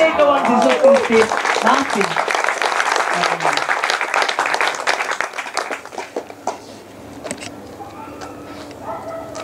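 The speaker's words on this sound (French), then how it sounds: "Applaudis Jésus-Christ" Church congregation bursts into applause for Jesus Christ, loud at first and slowly thinning out, with a voice speaking briefly over the opening and scattered claps trailing off at the end.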